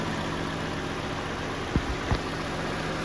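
A Dynamic Force 2.5-litre four-cylinder car engine idles with a steady, even hum and low rumble throughout, broken by two brief soft thumps near the end.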